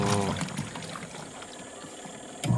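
A washing machine powered by a 24V solar inverter runs with water sloshing and churning, a steady moderate wash noise with a motor hum underneath.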